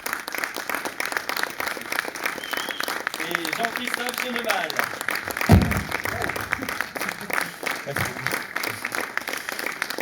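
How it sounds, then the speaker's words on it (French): Audience applause at a French sound-themed conference show, a steady wash of clapping under a voice announcing names over it. "je crois qu'on peut applaudir très fort Olivier Notem"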